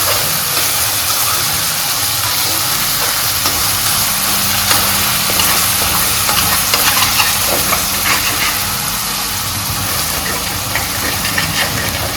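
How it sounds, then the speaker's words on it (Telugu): Onions fry in a pan for a chicken-and-egg dish, giving off a steady, loud, close sizzle and hiss throughout. "ఫ్రెండ్స్ ఆనియన్స్ బాగా వేగినాయి కదా"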